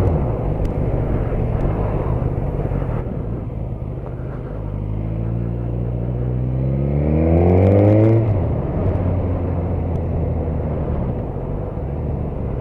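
A Suzuki GSX-S1000 motorcycle fitted with a Yoshimura cam rumbles steadily, then its engine note climbs in a rising rev before dropping back to a low drone.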